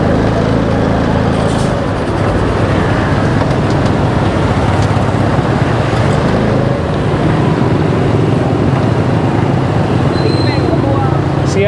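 Heavy rush-hour traffic in Hanoi from the seat of a motorbike weaving past buses and cars, a loud steady wash of engine and road noise with brief horn beeps, while someone speaks.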